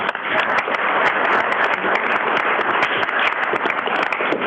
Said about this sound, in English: So let's give you all a round of applause for